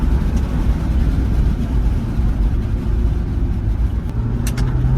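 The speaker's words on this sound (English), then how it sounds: "Now this thing's really got some pickup when you get on the gas here" A Jeep Wrangler 4xe, pairing a 2-liter turbo with an electric motor, accelerates under throttle in a steady, close, broad engine-and-road rumble, with a couple of faint clicks near the end.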